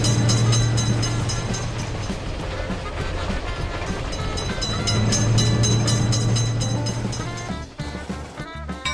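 A train rolls steadily through a level crossing with a gated road passage, loud and close, its wheels clattering in a continuous rumble that eases slightly near the end.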